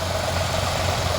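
A tractor engine idles close by with a steady, loud, low rumble, heard briefly and alone.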